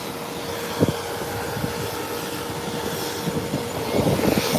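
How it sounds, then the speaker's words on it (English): Beechcraft 1900 turboprop airplane taking off, a steady broadband roar heard from a distance, fairly constant and swelling slightly toward the end, with no voices. "And the nose wheel is up and it's off the ground. Nice smooth takeoff. There you have it. Beechcraft 1900 up and away."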